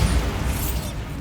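A Bombarda blasting spell in Hogwarts Legacy lands as a loud, dense explosive burst with a rumbling low end that fades quickly over about a second.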